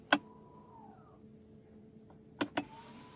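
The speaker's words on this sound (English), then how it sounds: "Here's your electronic parking brake." The electronic parking brake of a 2020 BMW 330e, heard as a sharp click, a brief motor whir, then a closing double click, up close inside the quiet cabin.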